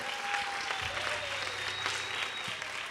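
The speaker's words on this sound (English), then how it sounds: "Round of applause, everyone." A room of people applauds during a game-show segment at a National Easwaramma Day gathering, a fairly quiet, even wash of clapping from a crowd, with a faint tone humming underneath.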